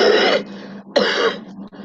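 Two harsh, close coughs from a person, each a short rasping burst separated by a brief pause, followed by a faint throat-clearing sound.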